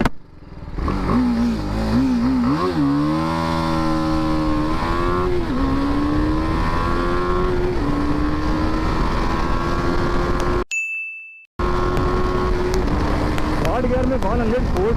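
BMW 310R motorcycle accelerating at full throttle in a 0-100 run, its loud engine note rising in pitch through successive gears, with a brief cutout near the end before the revving resumes.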